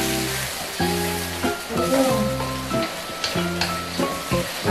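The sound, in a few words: chilies frying in a pan for sambal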